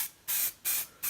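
Spray paint primer being applied to an RC crawler body in three even bursts, each a loud, steady aerosol hiss of roughly a quarter second, separated by short pauses.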